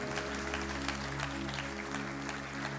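A church congregation applauding, a steady wash of clapping that holds evenly throughout, with a low hum underneath.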